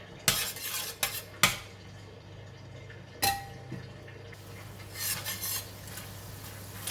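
Tofu being mixed in a pan with sesame seed oil for a stir-fry with bean sprouts: a few sharp utensil clinks and scrapes against the pan, spaced irregularly, close by, followed by softer shuffling with quiet gaps between.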